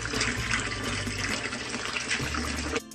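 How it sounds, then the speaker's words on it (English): Water from a fry tank's return line drips and trickles steadily back into the tank, a continuous close splashing wash with a low hum underneath, cutting off abruptly near the end. "This is the drip back in. This is the rate of how fast it's coming in"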